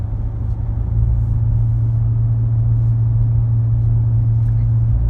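A C7 Corvette with the exhaust option cruising, a loud steady low engine drone and road rumble heard from inside the cabin, continuous and close with little change.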